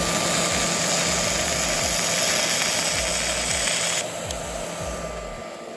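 Handheld welder joining 1/8 inch steel to 1/8 inch steel at power level 4.5, a loud continuous buzzing hiss with a steady hum and faint rhythmic ticks, close up with no talking, easing slightly near the end.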